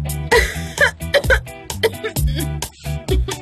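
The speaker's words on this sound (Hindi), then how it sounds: "तुम्हें खांसी हो रही है?" A person coughs repeatedly in a series of harsh, voiced bursts, close and fairly loud, in a Hindi-dubbed television drama scene, with no other talk.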